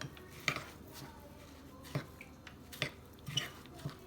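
Spoon stirring a packet of instant oatmeal into a watery bowl, a few sharp clinks and scrapes against the bowl spaced out over quiet room tone.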